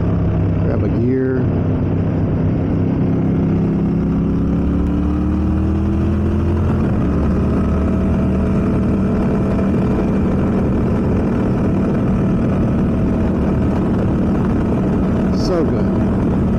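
A motorcycle on an open country road shifts gear, the engine note dipping and then climbing steadily as it accelerates, a loud close drone under constant wind rush for the whole stretch.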